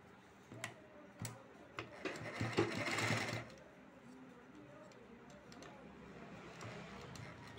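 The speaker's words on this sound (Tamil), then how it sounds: "அதனால் ஒரு பக்கத்துக்கு ரெண்டு தையல் நம்ம போட்டுக்கலாம்." Sewing machine stitching a blouse, with a short burst of needle clatter in the middle amid scattered ticks and clicks; the machine is fairly faint and quiet between runs.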